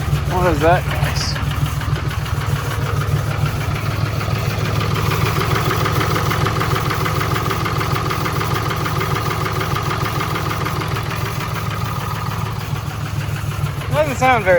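A cheap Cummins diesel engine runs with an unidentified unhealthy noise, a steady close idle with a rough, knocking undertone throughout, continuous and fairly loud.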